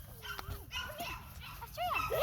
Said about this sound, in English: Wait, there's more puppies in the way.